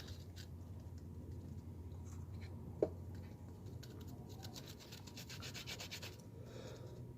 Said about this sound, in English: then we'll sand them one last time, kind of lightly